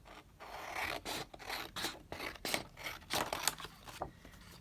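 Scissors snipping paper while trimming a page for a holiday journal, a series of close, crisp cuts in an uneven rhythm, alone without talk.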